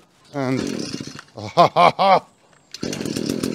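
An Echo chainsaw engine fires up after priming and choking, sputtering at first, then revving in three loud bursts before settling into a steady run, with a brief spoken word.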